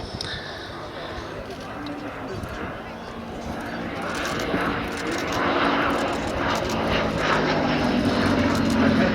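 Vintage Gloster Gladiator biplane at the Duxford air show, its piston engine droning steadily and swelling slightly as it passes, with crowd noise and faint talk underneath.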